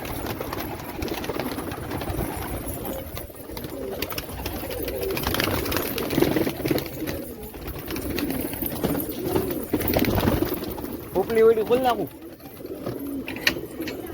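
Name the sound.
pigeons cooing in breeding loft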